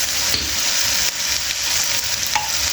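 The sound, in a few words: stirring vinegar and soy sauce into macaroni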